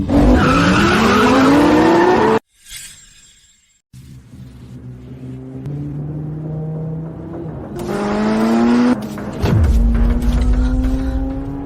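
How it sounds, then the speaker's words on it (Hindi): A car races at speed through a city with failed brakes, its engine revving loudly and tires squealing in long rising and falling skids, broken by a short near-silent gap, then more screeching and a heavy rumble. "तुम शहर में इतनी तेज क्यों गाड़ी चला रही हो?"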